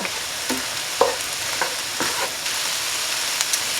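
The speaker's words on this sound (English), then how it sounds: "we're just going to give that a stir and just saute that for another minute or so" Rice and chopped broccoli sautéing in a pan make a constant sizzle, with a few spoon scrapes and stirring knocks heard close up and without talk.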